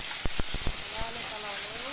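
Tomatoes hit a pan of fried onions for Nepali alu dam, giving a loud, steady sizzling hiss throughout, with a few soft knocks near the start.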